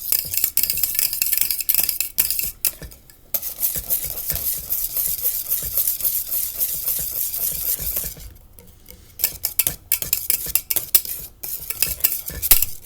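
A homemade boozy eggnog mixture whisked by hand in a bowl: fast, close, rhythmic scraping and clinking of the whisk, with a couple of brief pauses.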